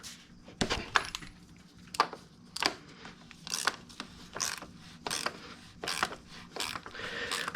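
Ratchet wrench with a 36mm socket loosening the oil filter housing cap on a BMW E46 325Ci, a series of short clicking bursts in a steady rhythm, close up with no talk.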